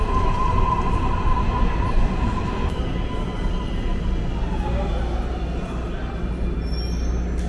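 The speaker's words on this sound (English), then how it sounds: "You ever rode a subway style train before?" Subway-style train heading to the airport rides along, partly above ground and partly underground, with a loud continuous rumble and clatter of wheels on rails throughout, steady and close from inside the carriage.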